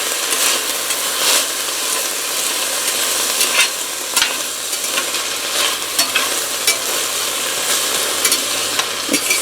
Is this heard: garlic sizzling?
yes